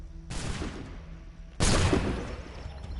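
Two loud gunshots from the game Assassin's Creed 3, each a sharp blast with a ringing tail, the second heavier and longer-lasting, heard alone without speech.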